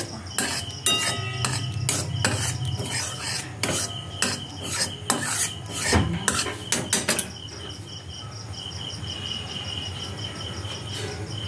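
Milk is poured slowly into caramelized sugar in a pan while a spoon scrapes and stirs in quick, gritty strokes that ease into a softer, steady bubbling.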